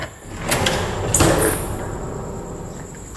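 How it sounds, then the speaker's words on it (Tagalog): A hotel door opening at a reputedly haunted hotel in Bicol: a loud mechanical slide and clack swells near the middle over a steady background hum, close by, without speech. "Buksan natin yung pintuan."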